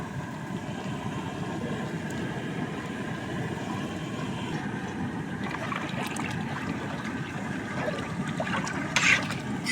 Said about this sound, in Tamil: இப்போ நம்ம வந்து தண்ணி ஊற்றிக்கலாம் இது மசாலா தண்ணி